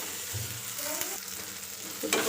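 Fish head frying in oil in a pan for a Bengali moong dal dish, giving a steady close sizzle with a few faint scrapes and stirring clinks, no one talking.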